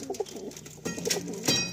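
Clean high-flying pigeons coo softly nearby, a few low rolling calls rising toward the end, with faint background noise and no talking.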